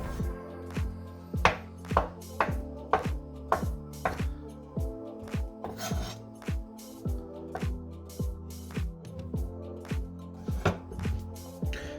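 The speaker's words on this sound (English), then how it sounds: "Now I'll show you how to cut the eggs." Knife cutting boiled eggs into slices on a board, a steady series of sharp close taps repeating roughly every half second over a low background hum.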